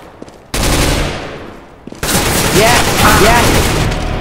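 Dense bursts of Awesomenauts gunfire and explosive blasts, loud and close, with a brief lull before a second sustained barrage; short whistling tones flit over the clatter.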